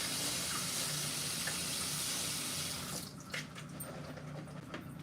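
Tap water runs steadily from a faucet into a sink while food is rinsed off to remove salt during chili cooking, a loud continuous wash that thins and turns patchier near the end with a few splashy bursts.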